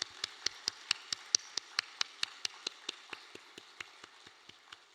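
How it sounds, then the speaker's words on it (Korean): A church congregation at a Wednesday evening service claps together in a steady, even rhythm, about four sharp claps a second, moderately loud and with no voices. "우리 감사와 격려의 박수 해주시면 감사하겠습니다"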